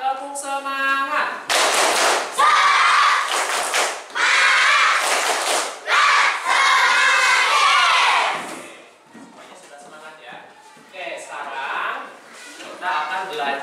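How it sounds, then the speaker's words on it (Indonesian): Schoolchildren in a classroom chanting and clapping a 'tepuk semangat' cheer, loud bursts of voices punctuated by rhythmic hand claps, close by, with a teacher talking at the end. "sekarang coba tepuk semangat"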